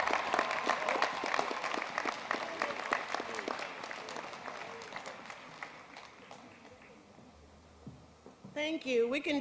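Warm applause for a graduating senior at a spring commencement ceremony, dense clapping that fades out before a voice speaks at the end.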